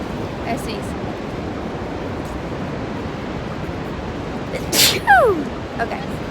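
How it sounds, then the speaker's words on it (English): A single sharp sneeze bursts out near the mic beside roaring Niagara Falls, followed by a brief voice over the steady rush of falling water. "I sneeze."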